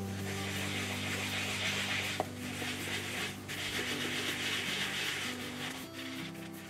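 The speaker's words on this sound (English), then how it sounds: "I'll go after the faceplate with the magic eraser" Steady scrubbing with a magic eraser on the faceplate of a Lionel Type Q toy train transformer, a continuous close rubbing hiss with a low steady hum underneath, one small click partway through.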